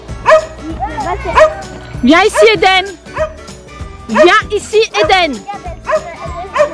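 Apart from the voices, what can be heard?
dog barking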